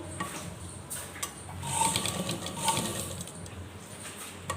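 A sewing machine runs in short bursts while stitching velcro onto the edge of a fancy dress, with a whirring needle rhythm, small clicks and a louder run in the middle.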